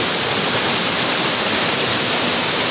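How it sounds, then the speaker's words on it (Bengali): Bamni Falls waterfall at Ajodhya Pahar, Purulia, close up: a steady, dense hiss of falling water, loud and unbroken with no voices. "দুটো জল নামছে উপর থেকে নিচে পর্যন্ত। এটা হচ্ছে বামনি ফলস"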